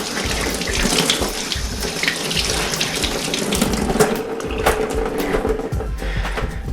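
Warm tap water runs steadily into a sink while RC off-road tires are rinsed, a loud continuous splashing rush with small shifts as the tires move under the stream; someone speaks briefly.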